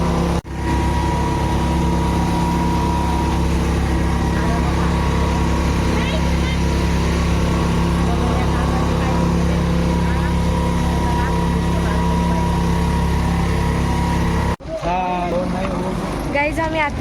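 Motorboat engine on a river boat ride: a loud, steady droning hum holds for about fourteen seconds, then cuts briefly and returns with voices talking over it.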